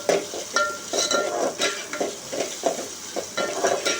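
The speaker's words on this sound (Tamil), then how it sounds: "கட் பண்ணி வச்சுருக்க வெங்காயம் இது எல்லாம் சேர்த்து நல்லா வதக்கணும்" Chopped onions sautéed in a pan for Tamil-style fish curry, a continuous sizzle broken by rhythmic scraping and stirring strokes of a spoon against the pan, close and fairly loud.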